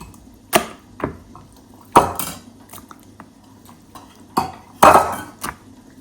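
Chicken being mixed by hand with a spice marinade in a bowl, giving a handful of sharp clinks and soft squelching knocks spaced irregularly, close and moderately loud with no talking.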